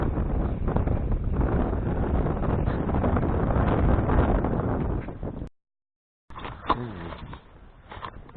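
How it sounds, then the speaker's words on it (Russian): Lakeside wind buffeting a microphone, a steady loud rumble that stops briefly and then resumes with lighter gusts, close and continuous. "Да ветер в ухо дует."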